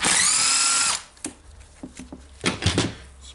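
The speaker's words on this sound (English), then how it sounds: "now I will unscrew the 4 screws here in the front and try to remove the armature." Unscrewing the four front screws on an Eibenstock EHD 1300 hand-held diamond core drill during armature repair: a loud, high motor whir for about a second, then a run of small, close clicks and rattles of screws and parts.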